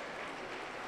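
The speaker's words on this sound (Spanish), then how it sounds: "¡Aplauso para el Señor Jesús!" A church congregation at a Pentecostal service in Cajamarca applauds, a dense, steady wash of clapping that fills the whole short moment without a break.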